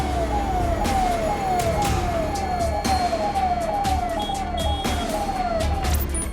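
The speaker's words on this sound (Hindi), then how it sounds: "सायरन बजाती गाड़ियां कृष्ण जन्मभूमि परिसर की तरफ तेजी से दौड़ी" Police vehicles race with sirens wailing in repeated rising sweeps, loud and continuous over traffic rumble, heading toward the Krishna Janmabhoomi complex in Mathura.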